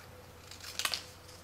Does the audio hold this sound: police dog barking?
no